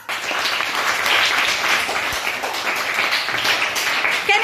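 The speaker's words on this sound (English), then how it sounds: "So give him claps." A classroom of children clapping together for a classmate, a steady, dense burst of applause that runs the whole time at close range, with no talk over it.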